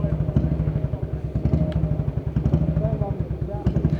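A British single-cylinder motorcycle engine just kick-started and idling, a close, loud, steady thumping beat with people talking over it.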